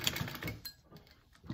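Sewing machine basting a handbag connector closed, a short quiet burst of rapid stitching that pauses briefly and then resumes.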